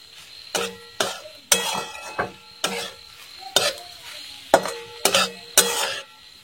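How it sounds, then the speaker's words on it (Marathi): Egg bhurji with coriander and dried kasuri methi stirred in a pan, with about ten sharp spatula scrapes and clinks against the metal in a steady rhythm over a soft sizzle, close and clear without speech. "परत मी 2 मिनिटं परतून घेते."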